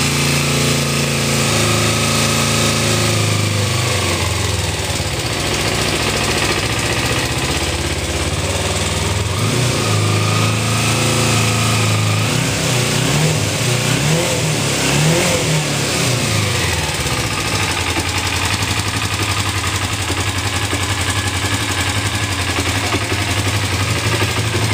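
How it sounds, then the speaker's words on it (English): A 2007 Kawasaki Ninja 250 motorcycle idles close by and then revs in several rising and falling surges before dropping back to a steady idle, loud throughout with no talking. "I could rev it up more, but would let it warm up first. But it'll go right to the red line"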